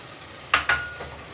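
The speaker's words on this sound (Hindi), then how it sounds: "ये सारा इसमें मिक्स कर रहा हूँ।" Turmeric powder being stirred into chana dal in a pan, two quick scraping strokes close by over a quiet background with no talk.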